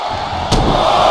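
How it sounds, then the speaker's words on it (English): A WWE wrestling arena crowd cheers in appreciation of the action, with a steady crowd murmur that swells into a sudden loud roar about halfway through. "The WWE Universe is showing their appreciation for the action they're seeing."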